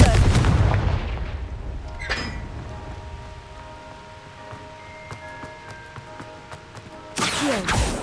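A Confringo spell explosion in the video game Hogwarts Legacy: a loud, close blast with a sharp crack, followed by quieter clinks and a fading tail before another burst of noise near the end.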